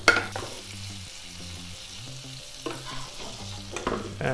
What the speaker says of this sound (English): I'm going to add a touch of butter to the pan just to get that bread nicely toasted on both sides.